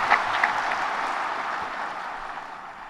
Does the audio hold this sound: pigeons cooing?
no